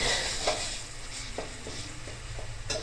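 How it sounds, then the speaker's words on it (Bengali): A spice mixture for pointed gourd korma sizzles and fries in a pan while a spoon stirs it, steady hiss with soft scraping strokes at irregular intervals, close and moderately quiet with no talking. "এইভাবে এই মিশ্রণটিকে কষাতে থাকবেন এবং যতক্ষণ না তেল ছেড়ে দিচ্ছে ততক্ষণ এটাকে কষাতে হবে"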